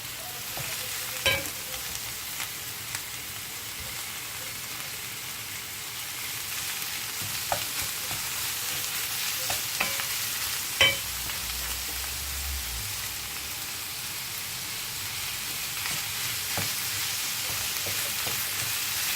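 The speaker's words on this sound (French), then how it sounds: "Ensuite, comme les oignons sont légèrement grillés, on va rajouter la viande hachée." Ground meat and lightly browned onions frying in a pan for homemade tacos, a steady sizzle with occasional stirring clicks and pops throughout, close and continuous.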